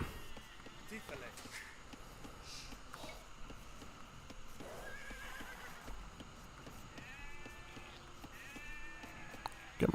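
Sheep in the Age of Empires 2 Definitive Edition strategy game bleat in a few short calls over faint game ambience, with horse whinnies, clip-clop and other unit sounds, and a player talking over it.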